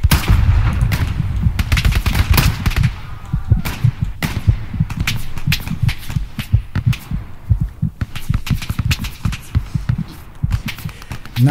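MG42 machine gun fire in the Hell Let Loose video game, loud rapid bursts and sharp cracks of gunfire with heavy low thumps, continuous and close throughout.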